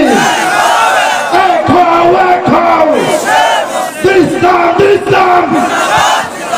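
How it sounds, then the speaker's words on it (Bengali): A large crowd answers a speaker's call by roaring the Islamic takbir slogan in unison, loud, close and repeated in powerful collective bursts that fill the space. "কারা কারা বলবেন লিল্লাহে তাকবীর, নারায়ে তাকবীর"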